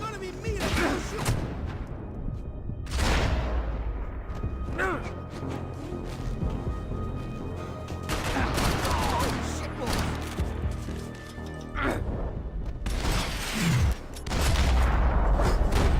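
Gunfire in Max Payne 3, loud bursts of shots and heavy impacts spread across a chaotic firefight, with talk over it.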